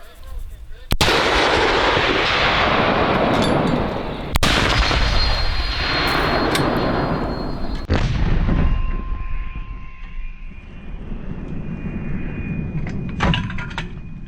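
Heavy artillery guns boom out at the front line in several loud blasts, each followed by a long rumbling roar and echo, with faint voices in between.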